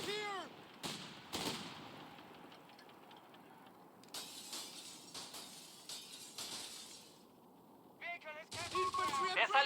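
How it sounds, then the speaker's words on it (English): Small arms gunfire in the World War II strategy game Company of Heroes 3, with repeated rifle and machine-gun bursts, impacts and shattering glass, loud and busy throughout, with game voices speaking over the battle. "Taking small arms fire here!"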